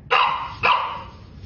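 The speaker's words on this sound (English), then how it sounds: "You're a good dog, okay?" A dog barks twice in quick succession, loud and close, each bark sharp and bright with a short tail, the second following about half a second after the first.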